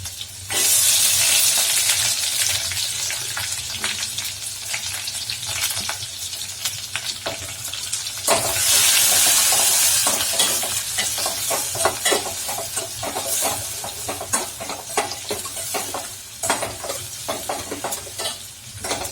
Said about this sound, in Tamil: நல்லா வெங்காயம் வந்து மஞ்சள் கலர் ஆகிற வரைக்கும் விட்டுருங்க.